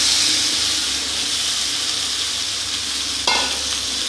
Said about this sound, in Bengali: এগুলোকেও ভালো করে নাড়াচাড়া করে মিশিয়ে নেব মশলার সঙ্গে।